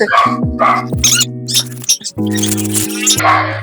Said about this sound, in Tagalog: Ang ingay ng aso namin, guys.